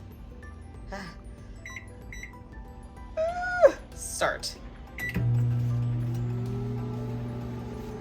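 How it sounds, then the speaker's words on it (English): A few keypad beeps and a short spoken word, then a microwave oven hums steadily as it starts running, a rising whir over a constant drone. "I'm not even gonna stand in front of the microwave."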